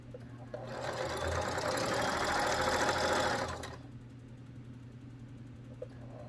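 A sewing machine runs steadily for about three seconds, stitching down a small single fold along a fabric edge for a one-piece gift bag. The motor whir is fairly close, starts and stops cleanly, and quiet room hum remains on either side.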